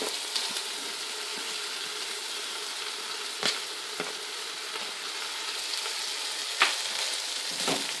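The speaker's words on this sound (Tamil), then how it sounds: "மிக்ஸ் கொடுத்துட்டு இப்போவே நீங்கள் உங்களோட பச்சை மிளகாவையும் புதினாவையும் சேர்த்துக்கலாம்" Green chili and mint frying in a pan for Chennai-style prawn biryani, a steady bright sizzle broken by a few sharp spoon clicks and scrapes as it is stirred, close and even, with no voices.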